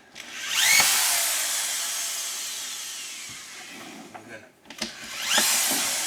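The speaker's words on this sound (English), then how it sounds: "So when I'm holding this screw gun, the 2 of my back fingers are operating the trigger" A screw gun whines up and winds down as it drives a screw into drywall, with a second spin-up near the end and light handling clicks between, close and fairly loud.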